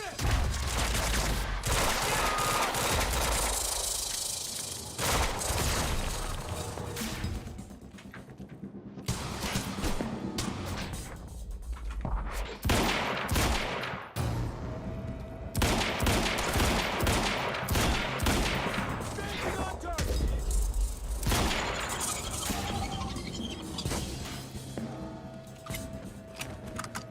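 Dense bursts of gunfire erupt in the Quantum Break video game, rapid and repeated volleys that come in loud waves and briefly ease before resuming. Faint voices are mixed in.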